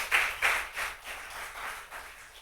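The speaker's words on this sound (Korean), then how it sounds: "박수 한번 쳐줘요." A Korean Baptist church congregation clapping during a Sunday evening service, a few loud distinct claps at first, then softer, more scattered clapping fading over about two seconds.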